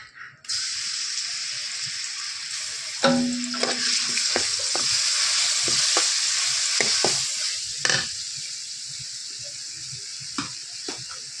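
Onion, garlic and ginger pastes dropped into hot oil, first a burst of loud hissing that settles into a steady close sizzle, with sharp taps and scrapes of stirring scattered through it.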